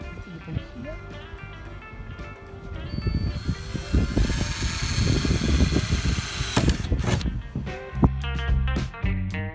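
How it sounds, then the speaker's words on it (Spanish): Power drill boring holes through a motorhome roof for a skylight install, with repeated whirring bursts that swell into a longer grinding run in the middle, mixed with clanks and handling noises at close range. "Hacer agujeros."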